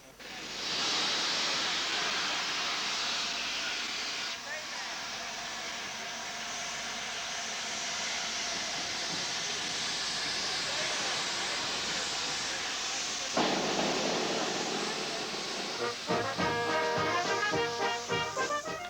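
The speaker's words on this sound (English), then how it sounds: "prepared to pay tribute to Brunel and the Great Western with a dramatic steam past" Steam locomotive Blue Peter pulling away at Didcot during the 1985 Great Western 150 celebrations, a loud, steady roar of escaping steam that fills the whole stretch, with a brighter tonal sound joining near the end.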